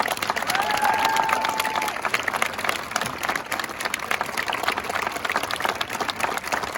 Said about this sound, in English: Can we get another round of applause for our amazing,